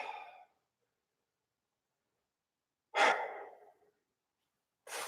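Slow breaths during a yoga routine: a short exhale trailing off at the start, then after a long silence a strong, close exhalation fading over about a second, and another breath beginning at the very end.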